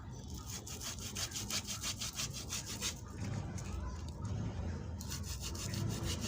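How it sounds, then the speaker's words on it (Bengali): Palm fruit pulp is scraped by hand against a surface to draw out the juice, a fast, rhythmic rubbing rasp repeated stroke after stroke, close and fairly quiet, with a short pause midway. "কিছুক্ষণ ঘষলে রসগুলো এরকম নিয়ে ফেলতে পারবেন।"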